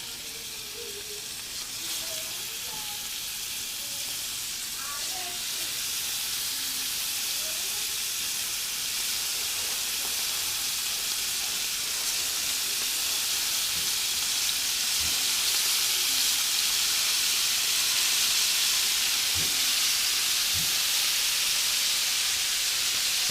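Mahi-mahi (dorado) fillets laid one at a time into a hot pan, giving a steady, loud, continuous sizzle and hiss that builds slightly and holds without a break.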